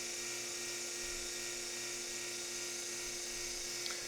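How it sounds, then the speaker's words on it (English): A vacuum runs steadily during a RapidColor Napkin Pro upholstery repair demo, a constant loud whining drone with strong hum and no breaks, no speech over it. "I'm going to turn this vacuum back off"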